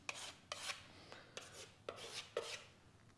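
Putty knife spreading shrink-free spackling into nail holes in house trim, a series of short scraping rasps in an irregular rhythm, close and fairly quiet with no talking.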